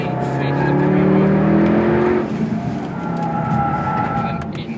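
A Mercedes car on a test drive pulls hard under power, its engine note climbing in steady rising harmonics, then easing and building again, close and loud throughout.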